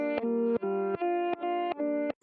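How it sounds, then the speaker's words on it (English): A guitar sample played reversed and slowed down, heavily processed with reverb and effects, sustaining thick droning chords that swell in steady blocks roughly every half second, each separated by a brief gap. "Basically, I just took the main sound and I reversed it and I slowed it down."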